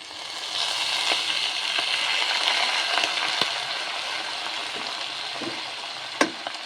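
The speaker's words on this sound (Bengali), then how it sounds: "এখন আমি দিয়ে দেব সেদ্ধ করে রাখা চাউমিন।" Boiled chowmein noodles being stir-fried with egg and vegetables, street style, give a steady, dense sizzle throughout, with occasional sharp utensil clicks and scrapes against the pan.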